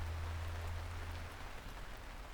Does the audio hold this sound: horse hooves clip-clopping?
no